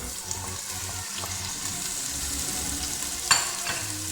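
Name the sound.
onion, green chili and tomato sautéing in pan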